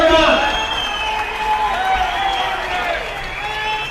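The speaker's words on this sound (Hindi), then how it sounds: "जोरदार तालियां बजनी चाहिए" Loud, continuous applause and cheering from a political rally crowd, a thick wash of clapping with whistles and shouts layered over it for the whole stretch.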